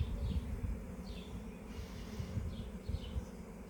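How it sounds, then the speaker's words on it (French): Honeybee swarm that left an overpopulated hive, a low steady buzzing hum with individual bees droning past now and then, faint and without voices. "Alors ça, c'est un essaim qui est parti d'une ruche"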